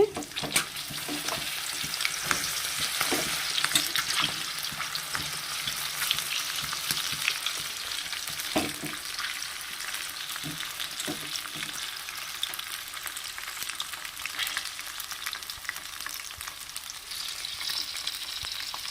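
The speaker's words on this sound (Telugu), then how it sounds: "చిక్కుడుకాయలు వేపుకుంటున్నానండి" Broad beans fry in hot oil with a steady, dense sizzle throughout, close and fairly loud, broken by occasional scrapes and clinks of a spoon turning them in the pan.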